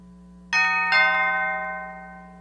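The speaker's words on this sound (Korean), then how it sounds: "그때 초인종 소리가 났다." A two-tone doorbell chimes indoors, a bright ding followed by a dong that rings out and slowly fades, alone in a quiet room.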